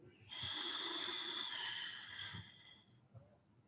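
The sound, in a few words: breathing out during yoga breathing exercise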